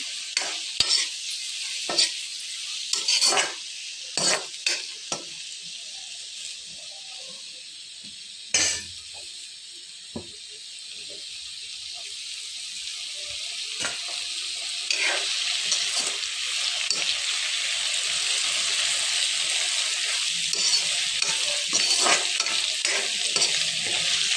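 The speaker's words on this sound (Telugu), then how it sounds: "దీన్ని నూనెలో కొంచెం వేగనియాలి వీటన్నిటిని" Chopped tomatoes sauté in hot oil for chapathi noodles, a steady bright sizzle with stirring scrapes and occasional utensil clinks against the pan, loud and close, with no talking.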